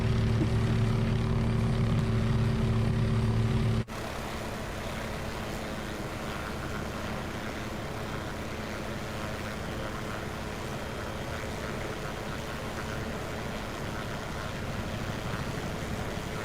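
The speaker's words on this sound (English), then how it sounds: "I hear a Chinook. Yep. Nice. Flew right over." Chinook helicopter in Microsoft Flight Simulator 2024 passing overhead, a low continuous rotor and engine drone. A louder hum drops away sharply early on, leaving the steady rumble running to the end.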